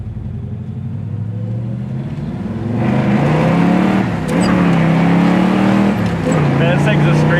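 A 1970 Chevy Nova SS with a four-speed manual rumbles loudly while driving, then its engine revs up sharply partway through and keeps roaring close by.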